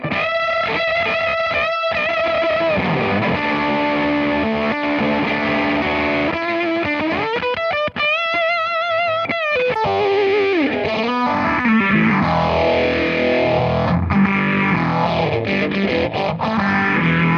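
Electric guitar, a Fender Stratocaster, played through a pedalboard: distorted, chorused notes with sweeping, wavering tones and sustained bends, loud and continuous.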